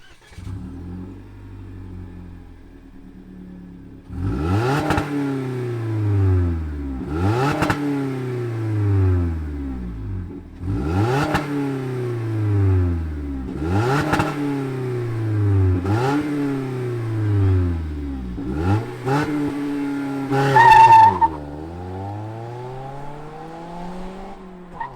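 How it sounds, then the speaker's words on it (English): A 2021 Toyota Corolla Apex with a catback exhaust starts up, then its engine is revved repeatedly in loud, evenly spaced blips that rise and fall back to idle, ending in a sharper, higher burst. "Let's fire up our Corolla Apex and hear what it sounds like."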